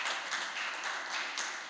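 Church congregation applauding during a Sunday worship service, a dense, continuous wash of many hands clapping close and loud for the whole stretch with rhythmic swells.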